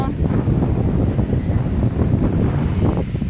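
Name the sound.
wind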